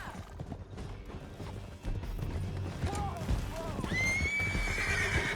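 Horse hooves clip-clopping at a gallop with sharp neighs and a loud whinny near the end, from Red Dead Redemption 2 gameplay during a canyon chase, set against game background noise and brief voices.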